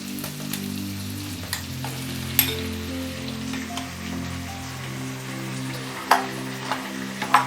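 Boneless chicken pieces sizzling and frying in a hot kadai, a dense steady crackle with occasional sharper pops and light clinks of stirring, close and continuous, with a low hum beneath.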